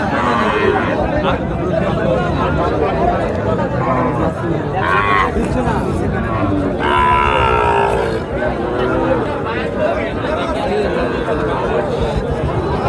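Young bulls and heifers low a few times at the Chhatra cattle market amid a dense, noisy crowd, with people talking and chattering close by throughout.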